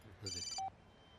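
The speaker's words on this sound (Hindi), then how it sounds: "फोन आ गया, इंपॉर्टेंट फोन है" A brief electronic phone ring chirps once, close and clear, with faint background murmur around it.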